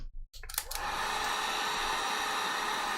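A Dremel rotary tool with a smoother bit whirs into a steady high-pitched whine while smoothing a costume crown, starting after a few brief clicks and holding at constant loudness to the end.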